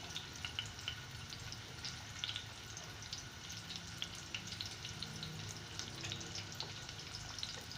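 Chopped onions with garam masala frying in a pan, a steady soft sizzle and crackle running continuously at low volume with no talk.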